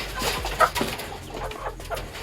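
Chickens cluck softly nearby in short, scattered calls over a low background hum, while being vaccinated.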